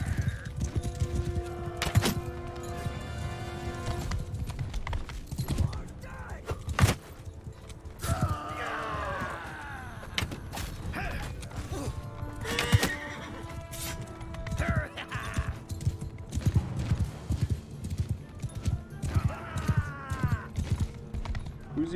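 Cavalry horses in Mount and Blade Bannerlord charging in battle, with thick clip-clop of many hooves, repeated loud whinnies and neighs, and shouting voices in a noisy melee.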